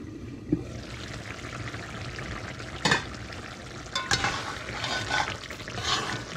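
Sizzling and stirring in a pan of shrimp curry as scallions go in, a steady frying hiss with a few scraping bursts of spoon against the pan, close and fairly loud.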